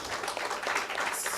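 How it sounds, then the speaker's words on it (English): Church congregation clapping for the Lord during a worship service, a dense, steady wash of many hands close by, filling the whole moment without pause. "let's clap for the Lord"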